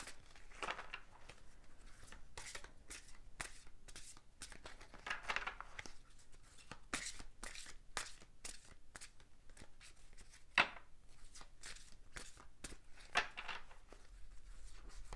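Tarot cards being shuffled close up, giving repeated short papery riffles and slaps in an irregular rhythm, soft and quiet against a faint background, with no talk.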